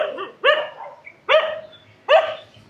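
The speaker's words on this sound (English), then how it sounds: "They like to have a little bark." A dog in Sanur, Bali, barks three times in a sharp, fairly close and evenly spaced series, with a softer yelp leading into the first bark.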